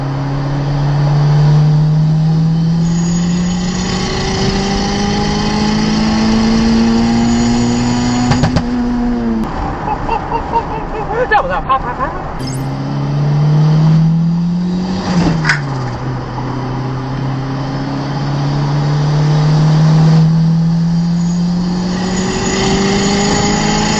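A turbocharged Honda Civic on a test drive with a fresh tune, engine loud and close, pulling hard through rising gears with shifts and brief lifts between long climbing revs.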